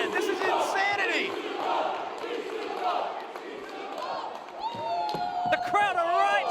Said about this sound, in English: The crowd are right to chant BCW from the very beginning.